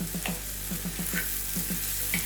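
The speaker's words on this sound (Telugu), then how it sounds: "దీంట్లో టమాటా వేసుకుందాం. ఒకసారి కలిపేసుకొని ఈ టమాటాస్ అన్నీ మెత్తగా ఉడికేలాగా లిడ్ పెట్టేసి ఒక 5 నిమిషాలు మీడియం ఫ్లేమ్లో" Tomatoes fry and sizzle in a hot pan for masala tava pulao, Mumbai street-food style, with steady crackling and repeated soft scraping as they are stirred, close and continuous.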